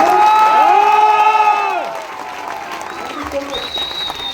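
An audience at a speaking event applauds and cheers for the Indian Army, a dense crowd clapping that starts under a sustained voiced, tonal sound and then carries on alone, thinning toward the end.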